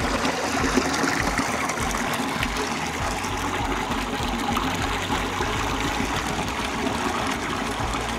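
Cold irrigation stream flowing past rice fields and farmland, a steady broadband rush and trickle of water running continuously up close with no voices.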